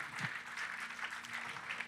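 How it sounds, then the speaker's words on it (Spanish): Church congregation gives a brief round of applause during a sermon, a soft, faint wash of clapping lasting a couple of seconds with a low hum beneath. "Dígame amén y dele un aplauso al Señor."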